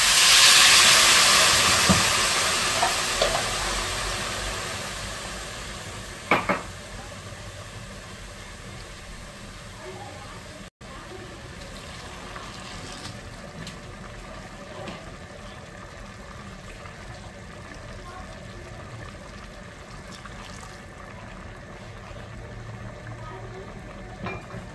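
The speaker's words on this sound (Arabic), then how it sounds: "هنحط دلوقتي الشوربه" Broth poured into a pot of rice and vermicelli, a loud rush of hissing steam and sizzling that fades gradually into a steady low bubbling simmer, with a brief clatter partway through.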